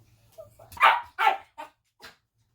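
A small dog indoors lets out three or four short, sharp barks close by, spaced unevenly and ending with a softer yip, with nothing else heard.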